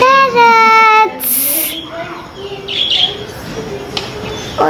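Australian parrots give a sharp, harmonic chirping call, then a burst of harsh squawks and scattered tweets, fairly close and loud over a hissy background.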